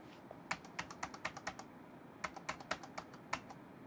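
Keys clack on a computer keyboard in two quick bursts of crisp taps separated by a short pause, close and fairly quiet against a low room hum.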